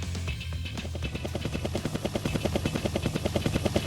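A helicopter's rotor beats in a steady rapid thumping, loud and continuous, growing slightly stronger toward the end.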